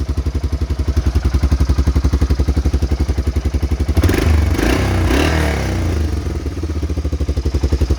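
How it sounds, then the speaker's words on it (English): A 1988 Honda Foreman 350 ATV idling close up after a carburetor cleaning, a fast, even engine pulse that swells into a rougher, clattering rev-up for a couple of seconds before settling back to a steady idle. "Clean the carburetor, start right up."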